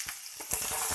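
Onion, green chilli and tomato sizzling and frying in hot oil with cumin for an aloo chana chaat, a steady crackling hiss with soft stirring scrapes.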